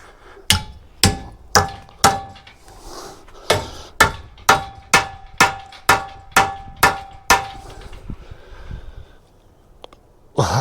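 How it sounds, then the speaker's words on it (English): A hammer pounds ground-off metal flat, about a dozen loud ringing clangs at a steady, roughly half-second pace, then a pause and one last strike. "I'm just going to hammer that down"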